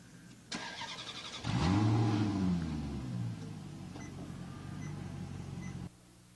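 A recorded Maserati sports car engine played from a phone app starts with a loud rev that rises and falls, then settles into a steady idle rumble before cutting off.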